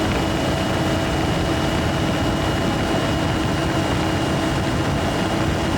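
Car with a turbocharged engine accelerating up a steep slope of about 10 to 12 degrees, a loud, steady, unbroken engine roar with no voices.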